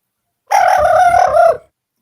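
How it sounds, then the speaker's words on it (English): A pet rooster crows once, close and loud, a single drawn-out cock-a-doodle-doo lasting about a second and then silence. "My bird's not impressed, Art."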